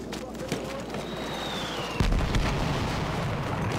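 A heavy bomb blast in Battlefield 1, Conquest mode on the Empire's Edge map, hits suddenly with a deep booming roar and then rumbles on loudly among ongoing battlefield noise.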